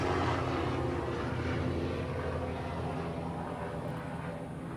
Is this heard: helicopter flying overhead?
yes